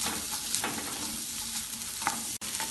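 Crushed garlic, ginger and chopped green chili sizzle steadily in hot oil for a pav bhaji base, with a few scraping stirs of a spoon in the pan and one brief cut near the end.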